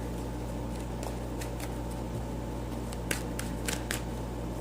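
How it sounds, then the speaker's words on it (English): Soft, brisk riffling and slapping of tarot cards being shuffled in several short bursts, over a steady low electrical hum. "I'm going to shuffle a bit more here."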